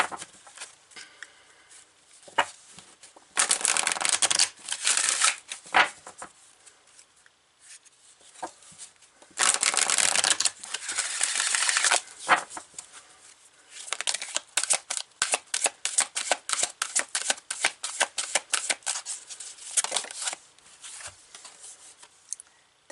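A deck of tarot cards is shuffled and cards are pulled, heard nearby as loud bursts of riffling, rustling card noise with quieter flicks and taps between them and no voices.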